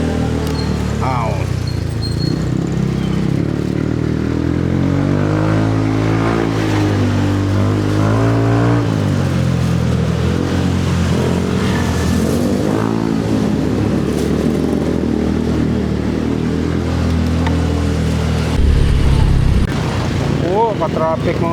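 A car drives through slow traffic in the Philippines on a weekday morning, its engine a steady close, loud drone throughout, rising briefly near the end, with a voice speaking now and then.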